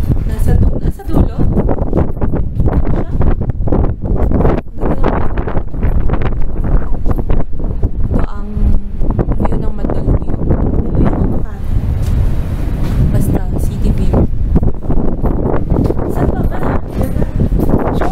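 Strong wind gusts buffet the microphone on an open, high vantage point overlooking EDSA, a loud continuous rumbling roar with people talking over it throughout.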